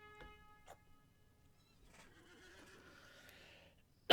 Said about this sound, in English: it's a good thing I've got a horse steed right here.